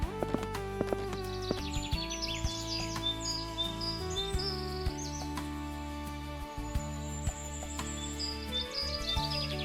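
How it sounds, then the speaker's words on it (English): Birds chirp and trill in short bright calls over a steady, layered musical background, fairly faint and scattered. "I hear birds."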